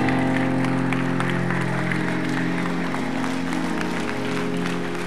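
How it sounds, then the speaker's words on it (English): A church congregation on its feet claps loudly and continuously over sustained organ or keyboard chords, with crowd voices mixed into the rhythmic applause. "Go ahead and stand up and clap."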